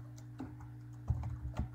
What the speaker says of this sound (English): I'm going to type that in there.